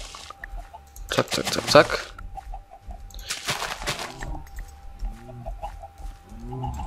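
Chickens clucking in the video game Minecraft, short repeated clucks with bursts of game noise, while someone speaks German over them.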